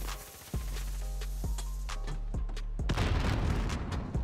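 Gunfire in the video game Modern Warfare: a string of sharp booming shots at irregular intervals, loud and close, with a denser burst of rapid fire near the end over a steady low game rumble.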